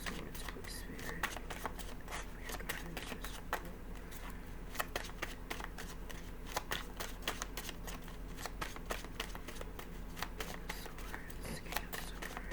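Tarot cards being shuffled for a reading, a soft continuous run of riffling and flicking close by, with a voice speaking quietly underneath.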